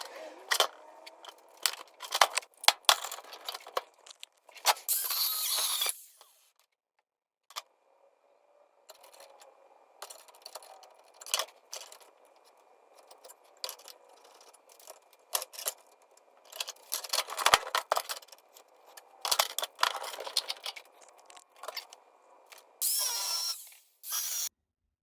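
Bar stock being cut to length for a two-stroke engine build, heard as bursts of harsh, close cutting and scraping noise broken by pauses and handling clatter, with no talking.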